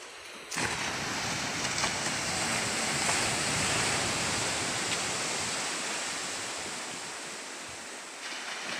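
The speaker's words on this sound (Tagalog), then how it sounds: "Makalat po yung dagat guys kasi po gawa po ng nagbaha" Rough sea surf, churned up after a flood, roars as a continuous broad wash of breaking waves. It is loud and close, rising after a brief quiet start and easing slightly toward the end, with no voices over it.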